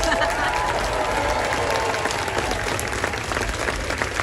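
A crowd at an outdoor No Kings rally in Tacoma claps in sustained, even applause that holds at the same level from start to finish.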